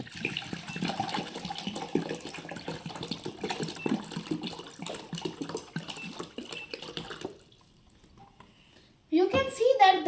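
Water drains from a bottle through a straw as a gurgling, glugging stream for about seven seconds, then stops; a voice speaks briefly near the end.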